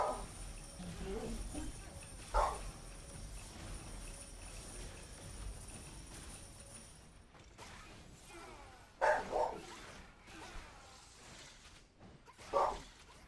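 A pet dog barks three times in short, separate bursts, fairly close, over a quiet background hum, with spacing of several seconds between the barks.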